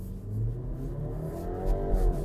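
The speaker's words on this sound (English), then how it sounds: "Launch sequence on the X330i is pretty aggressive" BMW X3 30i M Sport Pro launching hard from a standstill in sport mode with traction control off, engine revving loud and steady as it accelerates, no talk over it.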